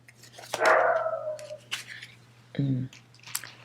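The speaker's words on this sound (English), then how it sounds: "excuse the barking" A dog barks sharply a few times nearby, with a drawn-out yelp and a steady low hum in the background.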